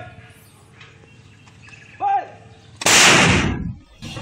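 A Philippine Army cannon fires once in a clash with Moro Islamic Liberation Front fighters in Maguindanao del Sur, a single loud blast with a sharp crack and decaying rumble, preceded by faint bird chirps and distant background.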